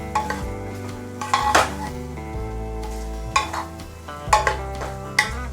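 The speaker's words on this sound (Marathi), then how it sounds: "आता हे परत एकदा छान असं मिक्स करून घेऊ" Matar paneer pulao stirred in a pressure cooker pot, a spoon scraping and clanking against metal in repeated strokes while the rice and peas sizzle steadily underneath, close and fairly loud.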